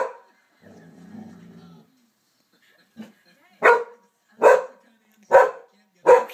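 A puppy gives a low, soft growl early on, then four short, sharp yips or barks follow at a steady spacing, close and fairly loud, with no talking.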